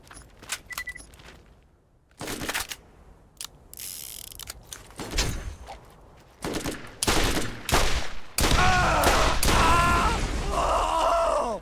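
Weapon fire and mechanical clicks in the Borderlands video game, starting as scattered sharp shots and handling noises, then building into a loud, dense stretch of sustained firing.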